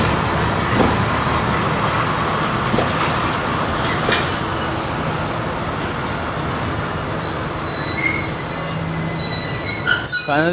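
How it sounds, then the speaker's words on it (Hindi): A train brakes hard at a station platform on the Jungshahi line, its wheels letting out a long, loud metallic squeal over a heavy rumble that grows louder as it grinds to a stop. "ब्रेक्स हार्ड लगी थी ना, तो ट्रेन पहले रुक गई"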